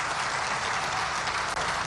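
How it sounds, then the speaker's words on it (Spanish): Steady, dense applause from a large crowd welcoming a cardinal at a presidential inauguration ceremony in La Paz, Bolivia, a continuous wash of clapping that fills the short moment. "un aplauso para nuestro hermano cardenal que nos acompaña"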